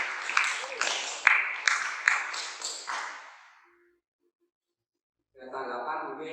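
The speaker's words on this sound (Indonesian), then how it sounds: "Kita beri tepuk tangan dulu." A classroom audience claps for a student group's presentation on an engine cooling system in an automotive class, roughly three and a half seconds of applause with sharp individual claps that fades to silence before a voice starts talking.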